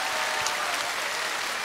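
An audience at an outdoor televised singing contest in Ttukseom Hangang Park, Gwangjin-gu, Seoul, claps in a dense, even wash of applause, moderately loud and continuous throughout.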